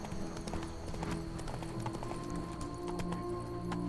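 Roach the horse gallops in The Witcher 3, hooves clip-clopping in a quick steady rhythm over a low game soundscape, moderately loud with no speech.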